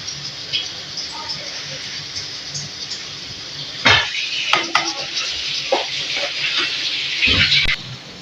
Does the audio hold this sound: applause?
no